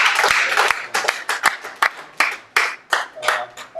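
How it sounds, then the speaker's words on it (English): Scattered hand claps from a small audience at an event, irregular and uneven, rising and falling over a few seconds. "Let's applaud for them."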